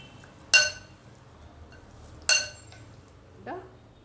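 A utensil clinks against a dish while cut lemons are mixed with salt for a lemon and dates pickle: two sharp, close clinks a couple of seconds apart, then a softer scrape.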